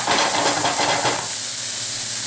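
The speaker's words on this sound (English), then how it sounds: "if it doesn't sizzle, you're not sauteing" Food sautés in a hot pan while a chef cooks stuffed chicken breast, giving a close, continuous hissing sizzle that starts bright and busy, then thins into a steady fainter hiss.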